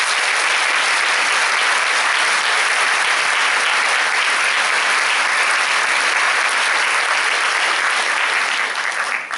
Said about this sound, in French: Je vais vous demander d'applaudir tout de suite l'orchestre parce qu'ils sont formidables.